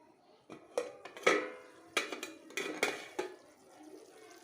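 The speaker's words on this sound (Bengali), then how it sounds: "এরপর আমি মশলাগুলোর সঙ্গে চিকেনগুলোকে ভালো করে নেড়ে নেব।" A utensil clanks and scrapes against a pot as chicken is stirred with spices for a traditional curry. The knocks come in an irregular series, close and fairly quiet, with no voices.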